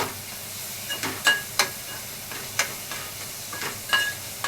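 Chopped tomato stirred and tossed in a hot pan for egg bhurji, with a steady low sizzle and several sharp scraping clicks of the spatula against the pan, close and moderately quiet, no talking.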